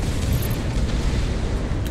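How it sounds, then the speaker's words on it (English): Bombs dropped from an aircraft in the combat flight game Project Wingman burst in a dense, continuous rumble of low booms, loud and close without pause for the short stretch. "You'd think they'd have a bigger explosion"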